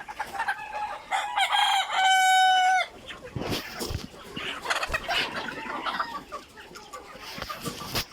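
Egyptian Fayoumi chickens kept as parent breeding stock of several sizes crow and cluck. A loud, close rooster crow rises early and holds for about two seconds, then scattered clucks and rustling from the flock continue with no talking.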